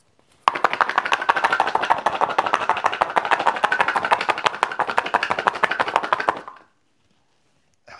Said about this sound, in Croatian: stavljamo beli luk unutra, zatvaramo i pravimo šejk